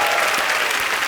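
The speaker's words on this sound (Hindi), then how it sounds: "जोरदार तालियां।" A studio audience at a Hindi television comedy show breaks into loud, sustained applause, a thick, continuous wash of clapping throughout.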